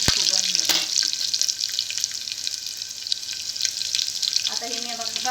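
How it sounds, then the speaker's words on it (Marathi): Mustard seeds, cumin and garlic sizzle in hot oil for khichdi, a bright steady hiss with a sharp spatula clack near the start and faint stirring; a voice briefly murmurs toward the end. "1 चमचा जिरं टाकून घ्यायचं। हे सगळं टाकून हलवून घ्यायचं।"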